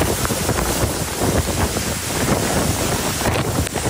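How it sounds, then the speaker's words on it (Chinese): Strong typhoon wind roars with driving rain in a coastal Taiwan town, a loud continuous rushing gust noise buffeting the microphone throughout, with no voices. "风雨真的太大了，感觉会被吹走"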